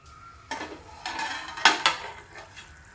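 A metal lid is set down on a pan of mushroom masala gravy cooking on the stove, giving a few quiet clinks and clatters over a faint background sizzle.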